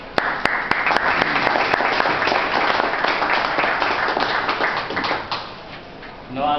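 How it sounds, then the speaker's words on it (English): Audience members clap after a speaker is introduced at a talk, producing dense, sustained applause from many hands at close range that fades slightly near the end, with a few murmured voices underneath. "when they introduce me and the people applaud"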